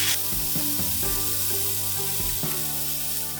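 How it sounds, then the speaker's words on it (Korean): Bacon fries in a pan for kimbap, giving a loud, continuous close-up sizzle with crackling pops throughout and no talking. "다음엔 베이컨을 노릇노릇하게 익혀줄 거예요."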